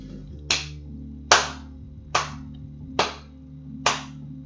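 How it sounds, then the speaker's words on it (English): Five sharp, evenly spaced hand claps ring out about once per second, close and crisp over a low steady hum, with no one talking. "I'm just clapping for"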